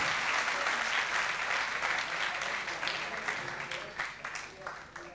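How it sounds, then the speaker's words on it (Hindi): Sustained audience applause at a university felicitation ceremony, a dense steady clapping from a large crowd that gradually thins toward the end. "पीछे तक तालियां बजनी चाहिए।"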